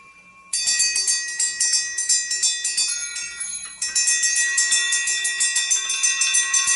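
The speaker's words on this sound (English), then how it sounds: "Soon it rang out loudly, and so did every bell in the house." Loud, continuous ringing of several bells clanging together, bright and metallic, starting abruptly after a faint tone and sustained throughout.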